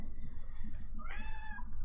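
A house cat meowing once, a clear drawn-out meow close to the microphone, heard over a low steady background hum.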